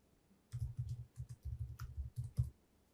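Someone types a file name on a computer keyboard, producing a quick, uneven run of soft key clicks that lasts a few seconds with no talking.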